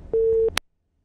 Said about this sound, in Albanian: Personi të cilit po i telefon... I bie telefoni, i ra telefoni zotris